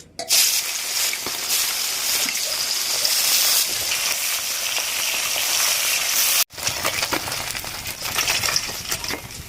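Loud, dense sizzle of salt-and-turmeric-coated fish frying in oil fills the clip, a brief cut partway through, then the crackling resumes with scattered pops and spatters.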